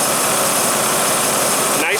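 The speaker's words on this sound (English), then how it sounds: "Nice smooth idle, no misfiring, very responsive" The 5.9-litre V8 of a Jeep Grand Cherokee ZJ rock crawler idles smoothly up close, giving a steady, even engine drone with no stumbles or misfires.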